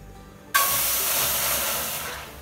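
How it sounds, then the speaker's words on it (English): Boiling water is poured during a thermodynamics lab experiment, starting abruptly as a loud, steady hiss-like rush that continues and slowly fades, with no talking over it. "now I'll pour the boiling water."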